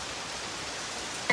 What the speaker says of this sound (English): This rain going to stop our life,